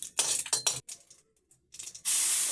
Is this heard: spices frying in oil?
yes